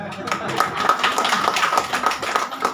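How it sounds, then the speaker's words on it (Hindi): An audience claps at a talk or seminar, a quick run of sharp hand claps repeating steadily through the whole stretch, moderately close, with a voice speaking over it. "ताली बजाइए इनको"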